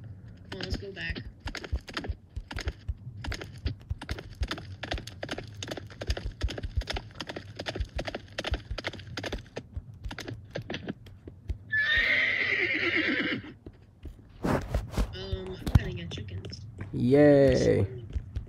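Video-game horse whinnying and neighing in several bursts, with clip-clopping hooves and faint keyboard tapping, while the player speaks over much of it.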